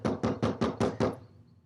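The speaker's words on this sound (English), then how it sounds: "There is someone actually knocking at the door" Six firm knocks on a door land in an even rhythm, close and loud, then give way to a brief quiet tail.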